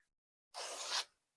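Dry coconut palm leaves are woven into a basket: a single brisk rasping rub lasting about half a second, close and quiet, set against near silence.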